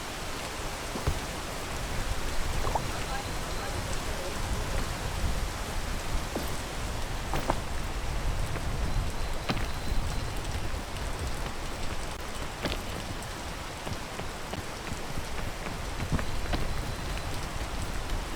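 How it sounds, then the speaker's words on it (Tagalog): Steady rain pours down, a dense hiss with scattered drops tapping on a surface, continuous throughout with no voices. "Ah, umuulan."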